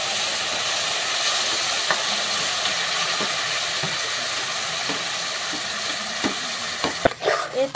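Pumpkin paste frying in hot ghee in a pan for pumpkin laddu, a loud continuous sizzle and hiss with occasional soft scraping of stirring, close up.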